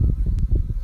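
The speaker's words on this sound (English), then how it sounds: "I've been watching these bees for quite a while now" Honey bees buzz around a hive during a queen cage check, a dense, steady low hum that stays close and loud throughout with a brief hiss partway through.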